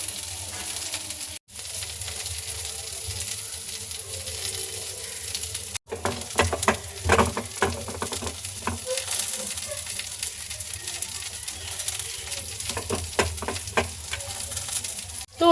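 Spices frying in a pan in a home kitchen, a soft continuous sizzle with scattered crackles and a few clinks of a utensil against the pan, fairly quiet throughout.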